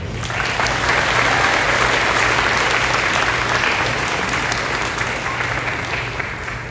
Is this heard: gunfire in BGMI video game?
no